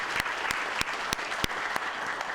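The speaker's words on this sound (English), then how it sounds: "So that alone deserves a big round of applause" Applause from a council meeting audience, a steady dense patter of clapping hands sustained throughout with occasional sharper claps standing out.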